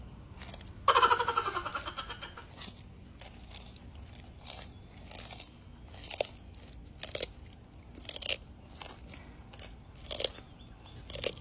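A sulcata tortoise bites and crunches its food up close, starting with one long crackling crunch, then a series of short, sharp bites spaced a second or so apart against a quiet background.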